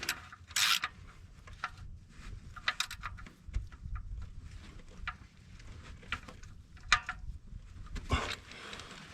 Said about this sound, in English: take a ratchet